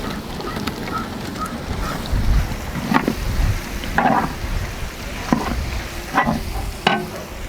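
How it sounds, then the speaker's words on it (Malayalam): Onions go into a pan of ginger and garlic frying for Kerala-style beef curry, producing a loud close sizzle broken by repeated spatula scrapes and clanks against the pan. "നമുക്ക് ഉള്ളി ചേർത്ത് കൊടുക്കാം."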